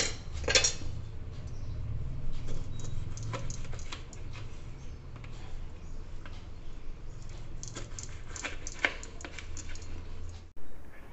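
Knife cutting washed lemons on a board in a home kitchen, with irregular close taps and clicks of the blade and utensils over a low background hum, no speech.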